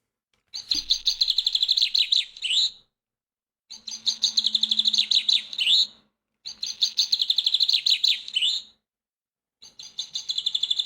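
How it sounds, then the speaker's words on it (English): A finch in a video game sings in three clear, bright bursts of rapid trilling notes, each phrase about two seconds long and separated by short silences, followed by the start of a fourth. "This here be a finch. When you hear this little guy singing, you know it's spring."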